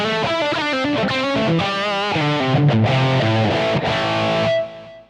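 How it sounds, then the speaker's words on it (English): Electric guitar with a driven tone through the stereo pan delay on a Boss Pocket GT, a steady run of notes repeating and echoing. It plays loud and continuous, then cuts off abruptly near the end, with no talking. "right now you hear we've got this stereo delay"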